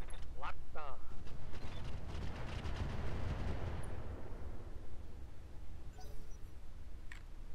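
Dead Fire missiles slamming into a target in the Roguetech mech game, a dense roaring barrage of blasts that rumbles loudly for several seconds before thinning into a fading rumble, with a voice talking over it.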